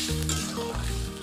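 Fish curry sizzling in a pan as it is stirred, a brief close hiss with a low tonal hum underneath.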